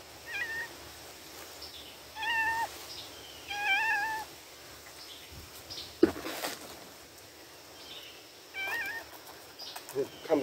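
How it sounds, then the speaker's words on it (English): A cat meows several times, short rising mews at a moderate distance, with a faint thump and quiet rustling in a room during the repotting of a large golden barrel cactus. "Comes Big O the cat"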